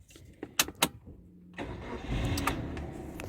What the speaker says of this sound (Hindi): सबसे पहले मैं इग्निशन ऑन कर लेता हूँ गाड़ी का